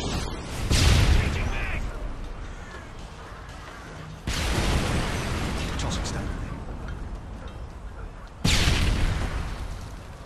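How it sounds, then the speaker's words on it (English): Stun grenade going off during a 3v3 Search and Destroy match on the Favela map, three loud bursts several seconds apart, each followed by a long ringing tail over background game noise. "Throwing stun grenade."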